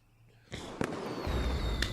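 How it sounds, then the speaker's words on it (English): Fireworks sound effect played on a live stream: a sudden loud burst followed by sharp crackling pops and a lingering sizzle, standing alone without talk. "Let me reload the fireworks real quick."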